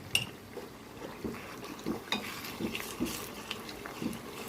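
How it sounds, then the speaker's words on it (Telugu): A spoon scrapes and clinks quietly against a pan while gongura paste is stirred into a spiced tempering for gongura pulihora, with soft irregular taps and wet mixing sounds and no talking. "ఆ గోంగూర పేస్ట్ని పోపులో వేసుకొని కలుపుకోవాలి"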